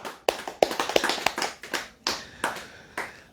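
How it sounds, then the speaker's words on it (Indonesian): Sharp, separate hand claps from an audience at a religious talk, about a dozen quick slaps in an uneven rhythm that thins out toward the end, fairly close and clear with no talking over them. "Nah, tepuk tangan."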